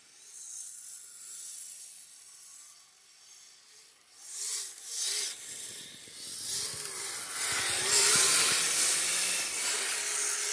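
A Kyosho Midnight Blizzard RC car with a hard plastic body jumps into a sand pit on a crawler course, raising a gritty hissing rush that swells louder and denser through the second half, with no talk.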